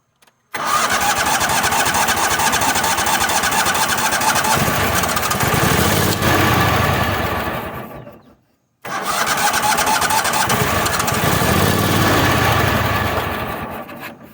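A Toro Wheel Horse 266-H lawn tractor engine is cranked hard in two long starting attempts, each a loud, close churning drone lasting several seconds, separated by a brief pause.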